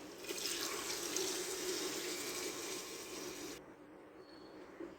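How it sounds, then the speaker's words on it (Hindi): One cup of water is poured into a pot of dahi gosht, a smoky yogurt lamb curry, as a soft, steady splashing trickle that lasts about three and a half seconds before stopping abruptly. "पानी हम यहाँ पर लेंगे 1 कप, वो ऐड कर देंगे।"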